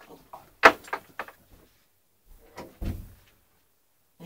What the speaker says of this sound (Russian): кто-то дверь открыл